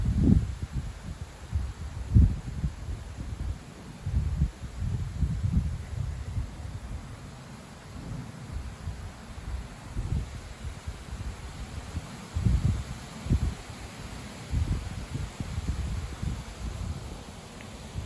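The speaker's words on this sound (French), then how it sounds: "le vent est de retour." Gusty wind on a strong autumn day sweeps through leaves, rising and falling in uneven low rushes and soft rustles that come back repeatedly over a steady background hiss.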